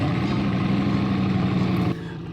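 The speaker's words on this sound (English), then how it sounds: "Let's go ahead and start up this engine and see what it sounds like." A car engine in the Roblox game Driving Empire starts and runs with a loud, steady rumble. After about two seconds it drops to a quieter idle.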